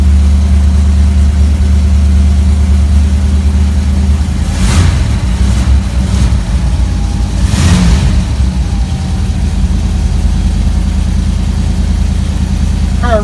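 A 1957 Chevy Bel Air engine idles with a deep, steady rumble close by, then revs up sharply twice in quick bursts before settling back to a smooth idle.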